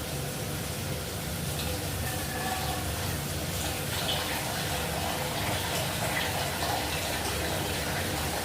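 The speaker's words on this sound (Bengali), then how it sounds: "এখন আমি ঝুল দেবো" Gravy liquid is poured into a pan of fried potato, pointed gourd and soybean chunks, giving a steady rushing pour and sizzle that holds at an even level throughout.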